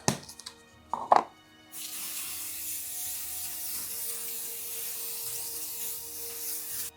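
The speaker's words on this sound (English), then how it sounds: "I'm gonna hairspray this." A few clatters and a rustle, then a steady hiss of hairspray from an aerosol can runs continuously for several seconds at close range.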